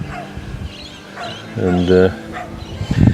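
A dog barks outdoors in a short burst of several harmonic yips and woofs, with someone talking around it and gloomy pre-rain weather setting the scene.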